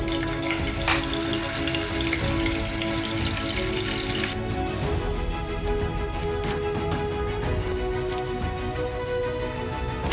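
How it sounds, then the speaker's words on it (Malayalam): Chicken pieces for a chicken curry fry in hot oil in a pan, giving a loud, continuous sizzle and crackle that keeps going without talk. "ഒരു പാനിനകത്ത് ലേശം എണ്ണ ഒഴിച്ച് എണ്ണ ചൂടാകുമ്പോൾ നമുക്കിത് ഓരോന്നായിട്ട് അതിനകത്തേക്ക് ഇടാം."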